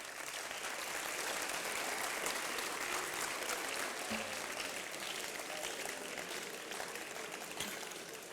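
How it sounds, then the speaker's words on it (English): An audience at an education awards ceremony applauds a Nepali football captain, with dense, even clapping sustained throughout like a steady hiss of rain. "He deserves your applause."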